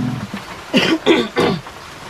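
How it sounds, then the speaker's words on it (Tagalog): Three harsh coughs in quick succession, close by, following a short throat-clearing sound in a quiet room. "pasensya na po at medyo inuubo po tayo"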